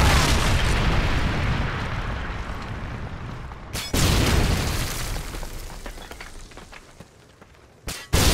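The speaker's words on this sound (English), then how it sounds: "Predator missile inbound." Predator missile explosion in Call of Duty Modern Warfare 2 Team Deathmatch on the Trailer Park map, a loud rumbling blast that decays slowly, with sharp booms cutting in around four seconds and again near the end.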